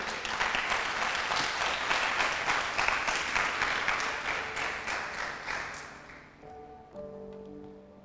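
Congregation at a church service applauding together, a dense sustained clapping that tapers off toward the end as organ or keyboard tones come in.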